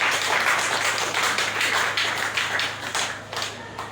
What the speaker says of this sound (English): So may we clap hands for my backroom staff